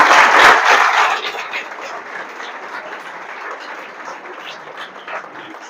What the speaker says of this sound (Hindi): लास्ट बच्चा, ताली बजाइए इसके लिए,